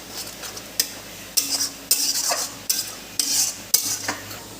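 A spoon scrapes and clanks against a pan in about seven rhythmic strokes while spices fry for chicken curry in a home kitchen, with a faint sizzle under the metallic stirring and no talk.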